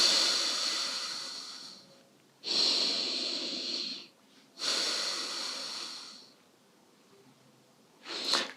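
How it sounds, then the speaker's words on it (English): Slow, deliberate breaths drawn in and pushed out through the nose, three long airy cycles close to the ear, with a fourth beginning at the end. "You want to sit there and you want to watch your breath come in, come out."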